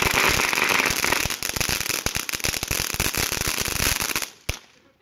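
A $20 Oblivion TNT consumer firework cake fires outdoors on the Fourth of July, a loud, dense barrage of rapid crackling bursts and pops for several seconds, ending in one sharp final bang before fading out.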